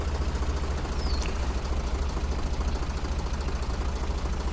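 A tuned tractor engine in the racing game Farm Machines Championships 2014 drones steadily and loudly throughout, with a deep, knocking idle-like rumble and constant vibration, with no talk over it.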